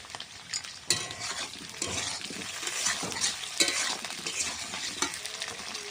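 Food sizzles and fries in a pot over an outdoor wood fire while a utensil stirs and scrapes it in irregular strokes, close and continuous with sharp knocks against the pot, no voices.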